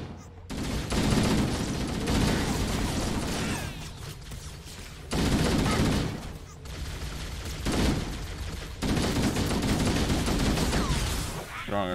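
Video game shootout with sustained bursts of automatic gunfire in long volleys, broken by short pauses, loud and close throughout.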